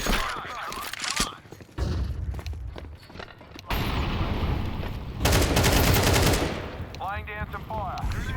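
Rapid automatic gunfire in a video game, loud bursts and sustained volleys crackling close by with thuds and footstep-like clatter between them, and a brief voice near the end.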